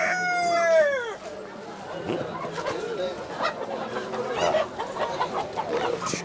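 Poultry market with chickens for sale: a rooster crows loudly at the start, followed by scattered clucking and background chatter of people talking through the rest.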